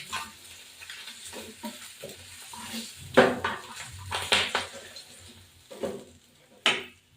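Fish rubbed with salt and turmeric frying in hot oil, then flipped and lifted out of the pan, heard as a quiet sizzle with several sharp clatters and scrapes of a spatula against metal, while a voice speaks softly.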